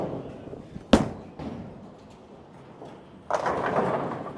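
A Motiv Lethal Venom bowling ball rolls down the lane as a low steady rumble, opening with a sharp release thud and ending in a louder burst of pin action near the finish.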